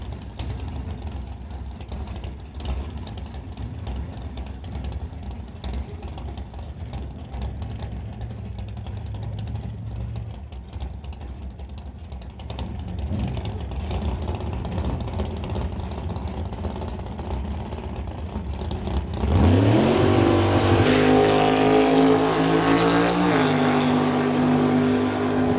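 Split window Corvette drag racing run at a Friday testing session: a distant engine drone builds, then a loud near roar sweeps up through the gears before settling into a steady high howl.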